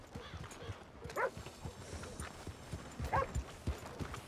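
Horse hooves clip-clopping at a steady walking rhythm, fairly close and moderately loud, with a few heavier steps and brief vocal sounds among them.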